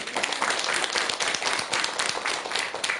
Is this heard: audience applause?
yes